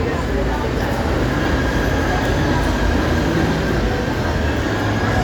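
Continuous loud roar of an LRT light rail car in motion near Carriedo Station, Manila, steady and close, with faint voices blended into the rumble.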